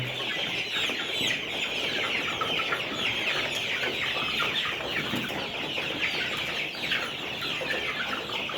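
Layer chickens in a poultry shed cluck and chatter continuously, a dense flock sound heard close and steady with no talk.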